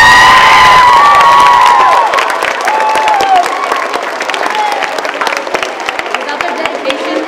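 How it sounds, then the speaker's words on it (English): Loud applause and cheering break out at an elementary school honor choir concert, with children shouting and whooping over dense clapping that stays strong and fades a little after the first couple of seconds. "How about a round of applause for the music teachers?"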